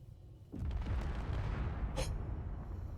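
A Mac cannon fires in the space game Space Engineers, a sudden deep boom followed by a sustained heavy rumble, with a brief sharp hissing impact shortly after, loud and without talk.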